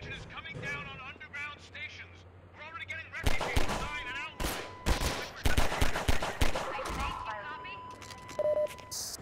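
Mounted gun fire in the video game Half-Life 2, heavy bursts of rapid shots starting partway in and repeating loudly over game sounds, with a voice speaking before the firing.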